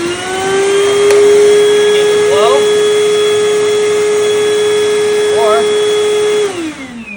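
Cordless battery-powered vacuum, also usable as a wet vac, switching on with a rising whine, running at a steady high-pitched hum with a loud motor tone, then spinning down near the end; brief faint squeaks pass over it.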